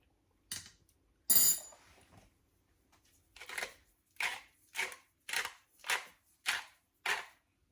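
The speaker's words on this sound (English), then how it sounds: "That was 6 cranks of that pink salt" Pink salt ground from a hand-cranked grinder over a pot of roasted red pepper soup, a couple of scrapes followed by six short, evenly paced gritty cranks, close and clear.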